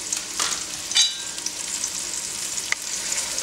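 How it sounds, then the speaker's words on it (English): Beef lightly browning in a pan for New Orleans roast beef po'boys, a steady hissing sizzle heard close with a few brief clinks and scrapes of a utensil. "So we're just, like I said, lightly browning it."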